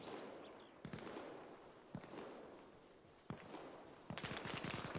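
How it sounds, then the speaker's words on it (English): Enemy grenade explosions in the video game Arma Reforger, a few sharp blasts spaced through steady battlefield noise with gunfire-like crackle, ending in a louder burst of rapid reports. "That sounds like enemy grenades."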